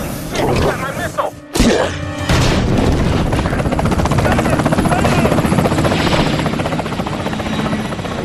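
Military helicopters attack during a fight scene from the 2003 Hulk film. A sharp blast early on gives way to a continuous, loud rotor roar that fills the rest of the scene.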